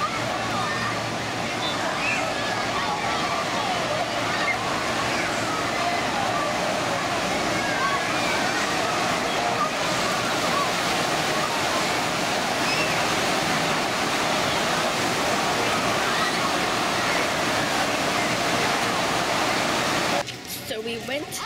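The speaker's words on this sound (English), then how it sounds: "Going to the water park." Rushing water at a Michigan water park spreads as a continuous broadband wash, steady and fairly loud throughout, with faint voices mixed in before a brief change near the end.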